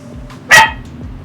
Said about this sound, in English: Dude, enough with the barking